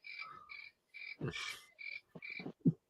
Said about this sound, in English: There's them crickets again.